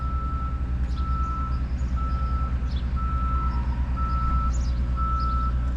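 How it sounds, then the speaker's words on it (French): Construction work during a church bell tower renovation: a truck's reversing beeps repeat steadily at even intervals over a continuous low engine rumble, with faint knocks and clatter in the background. "Alors tout ce bruit là parce que le clocher est en réfection"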